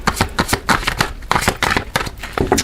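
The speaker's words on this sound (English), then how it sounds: "Some of you guys prefer to see me shuffle." Tarot cards are shuffled close up in a rapid series of crisp riffling bursts and slaps, loud and rhythmic with short gaps between, with no talking.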